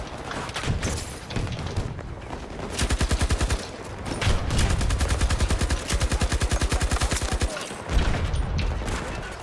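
RPT-31 light machine gun in the shooter game Battlefield 2042 rattles off long rapid bursts, loud and close, with brief pauses between strings of fire and a heavier boom near the end.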